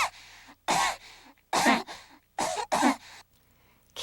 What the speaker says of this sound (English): this is the deep, full of gunk mucus cough